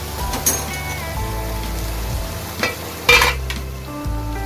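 Crab curry masala, cooked Agri style, is stirred and sautéed in a steaming pan. A continuous close sizzle is broken by a few louder scraping stirs.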